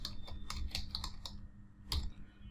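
Quick, light clicks of keys typing code on a computer keyboard, coming in short irregular bursts with a brief pause, close and quiet.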